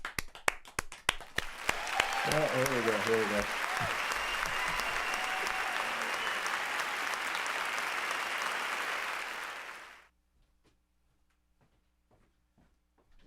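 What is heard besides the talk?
audience applause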